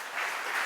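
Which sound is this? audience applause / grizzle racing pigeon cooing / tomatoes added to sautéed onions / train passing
audience applause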